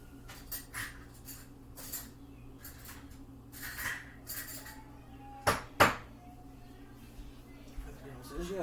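Dishes and cutlery clink and rattle in a kitchen as a spoon is fished out, with scattered light clatters and two sharp metallic knocks near the middle, over a low steady hum with a voice speaking at times.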